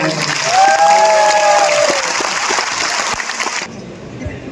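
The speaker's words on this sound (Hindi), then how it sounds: "भाई बहुत जोर से तालियां हो जाए" A crowd claps loudly and steadily for a few seconds alongside some speech, then the clapping suddenly cuts off into quieter room noise.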